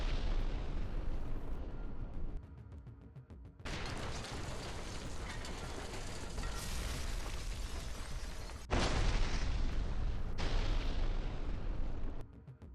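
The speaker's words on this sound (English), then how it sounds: "Multiple guided missiles struck different targets." Guided missile strikes exploding on targets in Ukraine, heard as a series of heavy booming blasts with long rumbling, crackling tails, several distinct bursts following one another at a distance.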